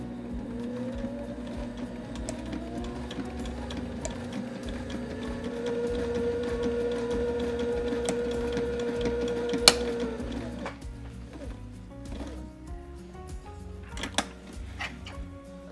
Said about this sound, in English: we're gonna be using our magnetic sewing guide for a straight stitch